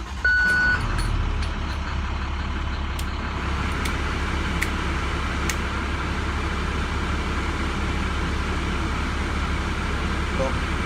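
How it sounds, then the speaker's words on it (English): An IC school bus engine turns over and settles into a steady, loud, close diesel idle, a constant low rumble lasting throughout with faint higher whine above it. "Let's go ahead and start this bus up and see if we took care of the problem."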